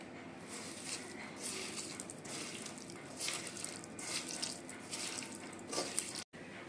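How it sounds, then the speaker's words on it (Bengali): Tap water runs steadily over hands being rinsed of spice paste in a home kitchen, a soft continuous splashing and patter at low level that stops abruptly near the end. "যে হাতটা আপনার মশলা লেগে আছে সেই মশলাটা হাত থেকে এভাবে ধুয়ে নেবেন"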